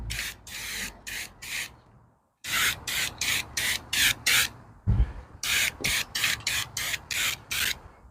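Spray primer hisses from an aerosol can onto a car body in repeated short bursts, several quick sprays in three clusters with brief pauses between, loud and close.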